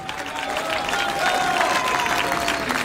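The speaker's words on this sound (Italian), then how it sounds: "Io vi invito a fare un applauso a Mario Aledda" A crowd claps steadily in a dense wash of applause at an outdoor festival in Quartu Sant'Elena, Sardinia, sustained and fairly loud throughout with some murmuring underneath.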